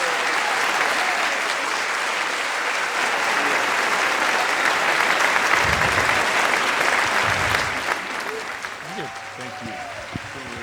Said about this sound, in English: an Earthkeeper round of applause to honor David Hatcher Childress